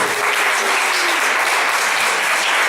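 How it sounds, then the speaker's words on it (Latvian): Audience applause fills a guitar music festival hall, a dense, steady wash of clapping from many hands that holds at full volume throughout, with no voices standing out. "Aplausi!"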